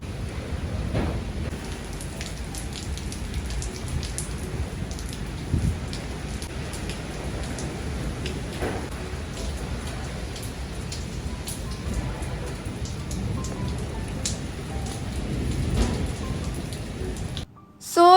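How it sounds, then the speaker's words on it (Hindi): Heavy rain pours steadily, a dense hiss of drops hitting surfaces nearby, with faint low rumbles underneath and no voices. "बाहर बहुत तेज़ बारिश स्टार्ट"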